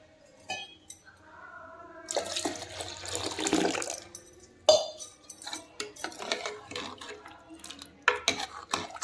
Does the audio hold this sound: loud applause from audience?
no